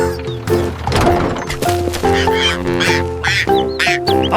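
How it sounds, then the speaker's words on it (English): A cartoon duckling gives a string of loud, nasal, honking quacks one after another, over bright cartoon sound effects. "Quack!"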